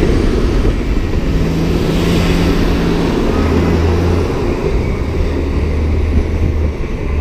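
A Cat D7E bulldozer works on motorway construction of a retaining wall, its diesel engine a loud, close, continuous drone with shifting low tones as the load changes.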